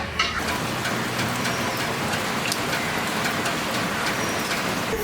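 Steady, loud rainfall pours without a break throughout, a dense hiss with scattered drops striking surfaces nearby, at an outdoor village cooking spot where biscuits are being grilled.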